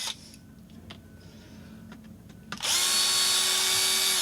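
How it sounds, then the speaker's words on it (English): Power drill boring holes all the way through a Delrin skid from an RC crawler, starting abruptly after quiet clicks and handling noise and then whining steadily and loudly to the end. "The holes at the ends here, which dead-ended in Delrin, we are going to drill out all the way through"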